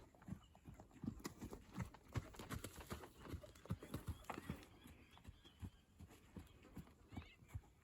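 Hooves clip-clop in a steady walking rhythm on hard ground, fairly close, with occasional faint voices in the background.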